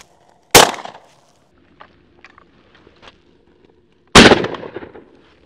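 Two loud shotgun shots during an early-season dove hunt in Arizona, spaced a few seconds apart, each a sharp close crack with a brief decaying tail, with faint rustling and small sounds between them.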